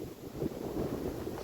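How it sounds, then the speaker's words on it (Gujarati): Strong wind gusts buffet the microphone outdoors on a dry, cloudless day, making a steady, low, rumbling roar with no voices. "અઘરો પવન જ આવે છે"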